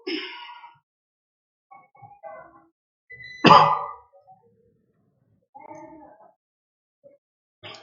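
A sharp cough bursts out once amid sparse, quiet vocal sounds and short pauses, near and fairly loud.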